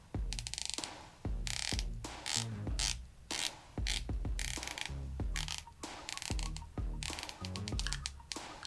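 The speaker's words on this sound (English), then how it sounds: "So let's listen to the bezel action." The rotating bezel of a Glashütte Original SeaQ dive watch is turned close up. It makes crisp, precise ratcheting clicks in quick, pronounced runs with brief gaps between turns, and no voice is heard.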